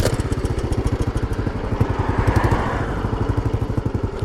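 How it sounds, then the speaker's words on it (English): A Royal Enfield Bullet 500 single-cylinder motorcycle, just kick-started, idles with a loud, close, evenly spaced thumping beat that carries on steadily throughout, with no talking. "There you go, so that's your Enfield started."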